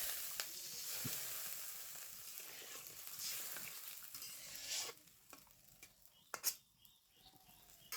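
Water poured into spice masala frying in a pan for Bengali chhanar dalna with potatoes, a broad hiss and sizzle with stirring scrapes, then a quieter simmer with a few sharp clinks near the end.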